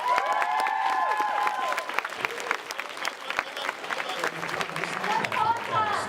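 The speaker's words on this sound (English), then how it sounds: "So, give them a round of applause." Audience round of applause at a fan convention panel, moderate crowd clapping with some cheering, heard at middle distance with voices talking over the clapping throughout.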